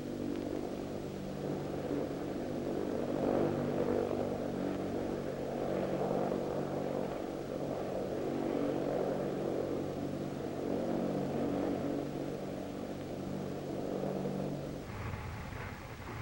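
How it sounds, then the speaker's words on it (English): A steady drone of the propellers of an American XC-142 tilt-wing aircraft at the 1967 Paris Air Show, loud and continuous, holding level before shifting near the end. "The tilt-wing concept is demonstrated at Paris by the American tri-service XC-142."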